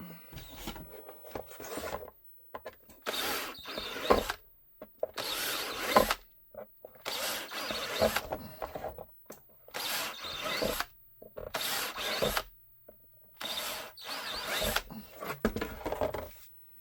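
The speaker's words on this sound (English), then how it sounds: "All right, I'll go ahead and drill it." A power drill bores holes in an RTI holster plate, running in repeated bursts of whirring and grinding separated by short silences, close and fairly loud.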